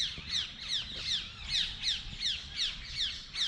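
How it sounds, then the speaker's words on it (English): Parrots in a tree in Orchha, India give a rapid run of shrill, evenly spaced screeching calls, about three a second, loud and carrying over a low background hum. "The whole tree is full of parrots."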